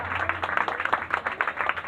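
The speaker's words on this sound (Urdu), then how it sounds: "پاک روح کے لیے زوردار تالیاں بجا کر خدا کے نام کو مبارک کریں گے" A church congregation breaks into brisk applause for the Holy Spirit, dense rapid clapping from many hands, moderately near and steady for about two seconds.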